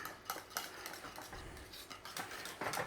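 A spoon stirs grated Parmesan into a polenta and Italian sausage casserole in a pot, giving soft scraping and repeated light clinks of metal against the pan, quiet and close.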